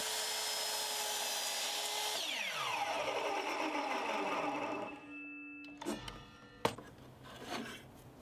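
A power saw cuts through a wooden board and stop block while building a patio side table, running loud and steady for about five seconds, then spinning down, followed by a few short knocks and clatters.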